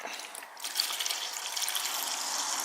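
Water poured into a small measuring tub already holding Simple Green detergent, mixing a cleaner for circular saw blades: a steady, close hiss of running liquid fills the whole moment without speech.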